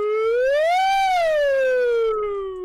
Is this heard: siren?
yes